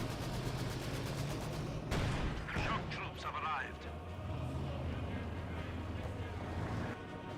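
Company of Heroes 2 battle with an anti-tank gun firing on Pioneer infantry, a sharp loud shot cracking out amid ongoing low battlefield rumble and scattered shots, with someone commentating throughout.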